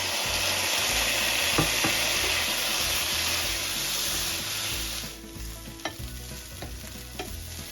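Cabbage fries in bacon grease over high heat with Jameson whiskey added, a steady loud sizzle that drops lower after a few seconds, broken by scattered scrapes and clinks of stirring; no talking.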